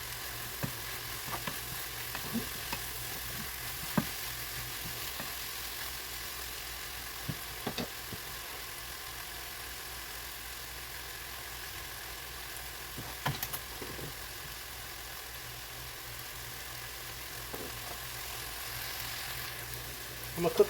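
Onions and spices sizzle in a cast iron skillet over medium-high heat, a quiet continuous frying hiss with occasional clicks and taps of stirring throughout.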